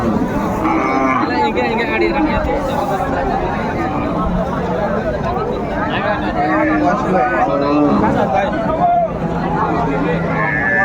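Cows and calves moo repeatedly over a busy crowd at a cattle market, with constant chatter and overlapping voices all around in a noisy outdoor setting.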